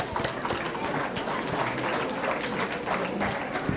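Audience at a community gathering gives a round of applause, a steady, moderately faint clatter of many hands clapping with a murmur of room noise beneath.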